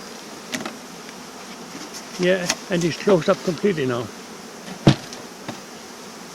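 Honeybees hum around an open breeding hive for queen bees in Denmark, a steady buzz near and far under a voice, with a few sharp knocks.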